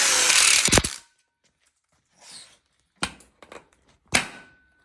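Power tool driving screws to fasten a smoker module onto a coupler for an outdoor kitchen, a loud close whirring burst followed by several short, quieter spurts and clicks.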